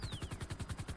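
Rapid automatic gunfire from a GTA roleplay game rattles off in a quick, even burst of about ten shots within one second, loud and close, with a faint descending whine behind it.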